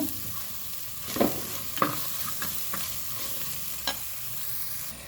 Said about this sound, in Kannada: ಮಸಾಲೆ ಒಟ್ಟಿಗೆ ಖಾರ ಪುಡಿ ಎಲ್ಲ ಹಸಿ ವಾಸನೆ ಕಳ್ಕೊಳ್ಳೋದು ಹುರ್ಕೋಬೇಕು